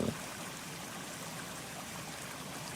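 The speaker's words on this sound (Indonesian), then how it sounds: "Keindahan air terjun Ratu Kalista Irawan" Water at the Ratu Kalista Irawan waterfall rushes and trickles in a soft, even wash, faint and continuous, with no voices.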